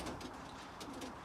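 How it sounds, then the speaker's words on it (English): Racing pigeons in a young bird loft coo softly and steadily, a faint, low murmur of several birds close by with no talking. "They're nice pigeons."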